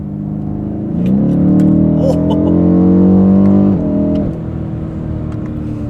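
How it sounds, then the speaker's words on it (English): A BMW M850 revs up, its exhaust burbling as the engine note climbs, holds for a few seconds and drops back, loud and close, with a brief spoken exclamation. "That's some burbles."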